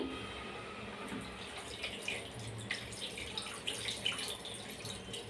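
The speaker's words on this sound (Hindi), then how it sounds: "अब इसमें मैं डाल देती हूँ पानी" Water poured from a container into a pot of raw chicken with ginger-garlic paste and salt, about two cups, for boiling in a home kitchen; a steady, close splashing and trickling stream runs throughout.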